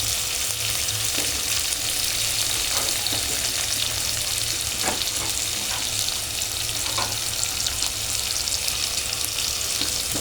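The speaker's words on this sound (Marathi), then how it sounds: "हा कांदा मी टाकत आहे" Chopped onion fries in a hot pan with a constant dense sizzle, with occasional soft scrapes and stirs over ten seconds, close by and with no talking.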